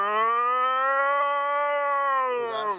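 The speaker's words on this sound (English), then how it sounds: "the mooing noise came from below him" A cow gives one long, sustained moo, a loud and close drawn-out low call that falls away at the end.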